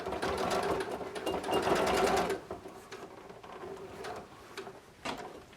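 Sewing machine stitching the seams of a quilted vest, a fast rhythmic mechanical whir running for about two seconds, then quieter handling clicks and small taps nearby.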